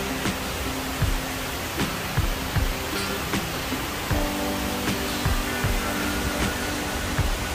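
Waterfall at the 9/11 memorial at Ground Zero, World Trade Center site, a loud continuous rushing roar of falling water filling the scene, with faint scattered knocks and tones from the surroundings.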